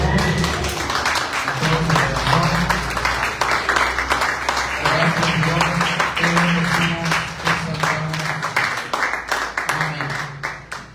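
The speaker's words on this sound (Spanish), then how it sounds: "si le puede dar un aplauso al Señor" Church congregation applauding during a Spanish-language worship service, a steady broadband wash of clapping lasting the whole stretch, with music or voices sustained underneath and speech mixed in.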